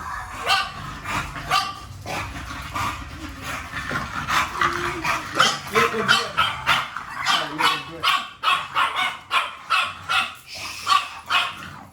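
A dog barks in quick repeated bursts, close and loud, with yips mixed in and a few brief voices between the barks.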